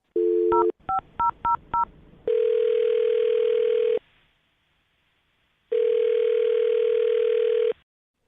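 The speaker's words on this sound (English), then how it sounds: "I'm going to dial his phone number right now." A telephone call is placed: a short dial tone, a quick run of touch-tone digit beeps, then two long ringback tones separated by silence, all clean and close.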